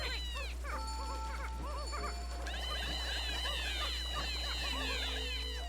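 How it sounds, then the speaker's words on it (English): High, squeaky cat-like creature calls from Pikmin 3 chirp and warble in quick overlapping bursts over a steady low game hum, growing busier and denser partway through. "Sound like cats."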